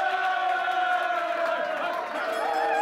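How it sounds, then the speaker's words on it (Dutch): Studio audience at a Dutch brass band TV quiz cheers and whoops loudly and steadily, a dense crowd roar with sustained shouted voices rather than distinct clapping throughout. "Twan Cox, applaus."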